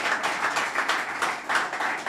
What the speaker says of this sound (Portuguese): eu vou pedir uma salva de palmas muito grande para estes dois convidados